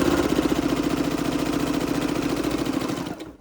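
A sewing machine stitches binding strips together in a fast, even, close mechanical whir that runs steadily for about three seconds, then winds down and stops.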